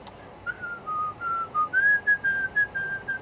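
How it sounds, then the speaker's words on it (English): A person whistles the Final Fantasy 1 victory music, a clear, close tune of short stepped notes that rises and ends in a quick sequence, with no speech. "What I want to whistle right now is the Final Fantasy victory music for Final Fantasy 1."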